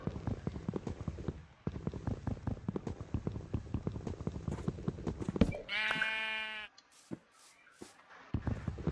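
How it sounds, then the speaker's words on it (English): A sheep in the video game Minecraft bleats once, loud and close, after a run of rhythmic clip-clop footsteps, then brief quiet with soft thuds. "this is a sheep"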